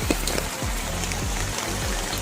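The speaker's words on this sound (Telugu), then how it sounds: "వర్షం పడుతూ ఉందని చూడండి నాన్ స్టాప్గా పడుతూనే ఉంది" Steady, dense hiss of heavy rain pouring down without a break.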